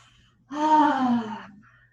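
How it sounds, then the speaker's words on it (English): A single deep breath drawn in through the nose and let out through the mouth, one close, airy rush rising and fading over about a second against near silence. "Taking a deep breath in through your nose here and then exhale out the mouth"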